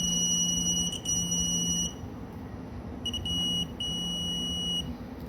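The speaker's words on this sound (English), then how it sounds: "That beep is pretty loud" Two long, piercing electronic beeps from a 1/2-inch digital torque wrench sound close up, each lasting about a second, separated by a short pause, over a low mechanical hum.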